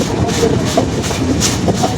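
A train rumbles steadily along the rails entering Ibrahimabad station near the Jamuna Bridge, a continuous low roar with faint clattering, heard from on board with no talk.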